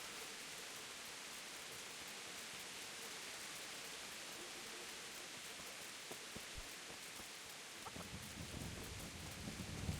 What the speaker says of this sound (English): I like the rain though in this game.